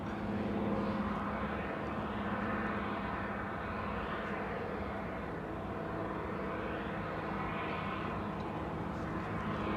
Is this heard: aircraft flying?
yes